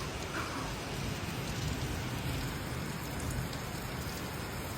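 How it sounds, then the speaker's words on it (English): Heavy rain pours down steadily during a thunderstorm in the Maldives, a dense, even hiss of drops on surfaces with only faint hints of thunder beneath it. "I think there's a thunderstorm going on. Oh my god, look at this. Yeah, you can hear the thunder."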